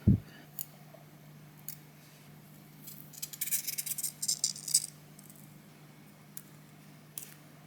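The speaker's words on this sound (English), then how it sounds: "I let dry resin for 24 hours and now I remove this tape" Tape is peeled off cured resin on the LED lights of a 1/10 scale RC car model, giving a crackly burst of sticky ripping in the middle, with a few isolated clicks before and after over a low hum.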